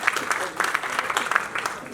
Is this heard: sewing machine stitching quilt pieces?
no